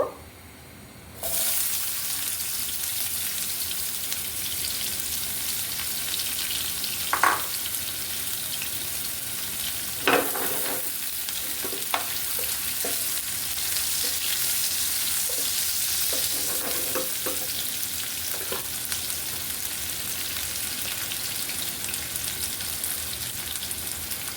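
Chopped onions hit hot oil in a pan that held chicken balls and chicken sausages for noodles, setting off a steady, loud sizzle that runs throughout, broken by a few light scrapes and clinks.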